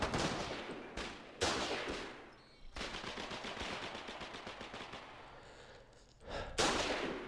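Shooting in a combat video game, with a shotgun blast among loud bursts of gunfire that come in rapid, dense volleys and pause briefly before another heavy burst near the end.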